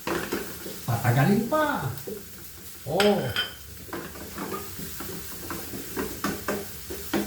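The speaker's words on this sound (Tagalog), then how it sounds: "Isunod na natin ang bawang." Garlic hits a hot pan of frying mushrooms and sizzles as it is stirred, with utensil clatter against the pan and a person talking over the cooking.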